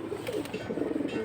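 A male pigeon coos softly in a low, rolling murmur among a loft of mixed fancy pigeons, faint and close with a light background hiss.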